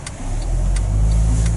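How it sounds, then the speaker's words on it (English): Cars pass along a road near a crossing, their engines a steady close roar that swells and eases as each vehicle goes by. No voices are heard. "No, but now there's cars again."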